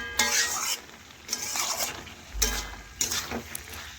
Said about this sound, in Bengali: এইভাবে মেশাতে মেশাতেই দেখুন পুঁই শাকটা কিন্তু নরম হয়ে যাবে আর সেদ্ধ হয়ে যাবে।